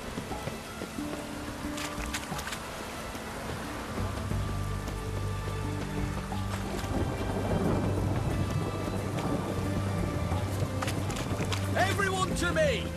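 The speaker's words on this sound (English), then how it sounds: "It's damp. It's raining," Rain falls steadily in The Witcher 3 Hearts of Stone video game, a constant patter and hiss under game music and voices, growing denser and louder partway through.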